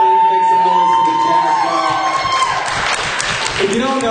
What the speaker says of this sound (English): So, yeah, round of applause for the Jazzbah.